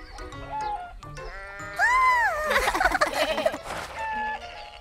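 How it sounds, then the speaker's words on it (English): A cartoon goat bleats several times in quick succession, wavering nasal cries that grow louder and rougher in the middle, heard up close with no talking over them. "A goat?"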